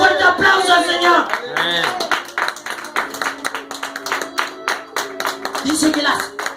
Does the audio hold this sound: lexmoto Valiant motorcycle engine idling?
no